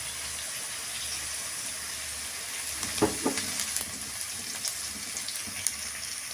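Onion and brinjal sautéing in a pan with a soft, steady sizzle, with a few clicks and scrapes of stirring rising in the middle.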